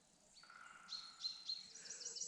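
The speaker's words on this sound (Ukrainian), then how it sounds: "Ми у весняному лісі, який повниться пташиним щебетом." Birds in a spring forest give high, thin chirps and short tweets in repeated bursts. They sound faint and distant over quiet woodland ambience, and no one talks.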